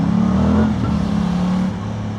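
An Aprilia Tuono 660 motorcycle, still in its break-in period, accelerates hard with a loud, steady engine drone heard up close that dips briefly in pitch partway through, then carries on with no talk.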